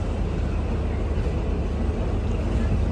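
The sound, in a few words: WAG-12 electric locomotive running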